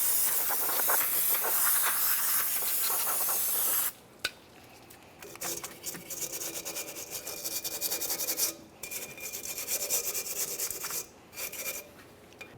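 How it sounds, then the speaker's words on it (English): Parts cleaner sprays in a hissing burst, followed by the scratchy rasp of a wire brush scrubbing a rear brake backing plate on a 2014-2019 Toyota Corolla, in uneven strokes with short pauses. "For this, I'm just using some parts cleaner and a wire brush."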